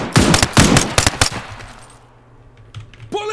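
A rapid burst of close, loud gunfire in the video game Zero Hour during a police raid on a house, several sharp shots in quick succession that fade out, followed by a brief voice.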